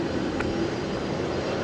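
An Air Canada Boeing 787 Dreamliner departing Brisbane Airport, heard as a loud, steady broadband jet engine roar that stays constant throughout, with no talk.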